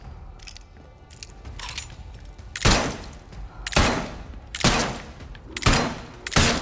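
Gunfire in the video game Atomfall, five loud, close shots spaced about a second apart, each with a short decaying tail, over a low background hum.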